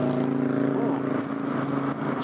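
A 2018 Indian Scout Bobber cruises in fifth gear on a freeway in rush-hour traffic, its steady engine drone and wind rush holding a constant, close tone throughout with no speech.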